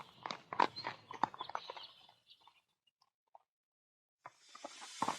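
Horses walk along, hooves clip-clopping in an uneven rhythm of close, crisp steps that fade to near silence midway, then pick up again at the end.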